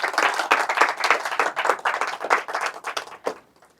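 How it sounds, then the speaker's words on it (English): Close, lively audience clapping at an event, individual hand claps distinct within a brisk burst that dies away near the end, leaving a few scattered final claps. "And let us clap for ourselves first."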